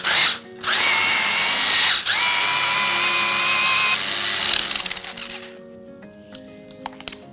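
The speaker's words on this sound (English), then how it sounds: "Now we take it out and we blend it all in. So we now just grind it all." A kitchen grinder blends roasted vegetable kebab mixture, loud whirring motor bursts with brief pauses, then the motor winds down into faint clatter near the end.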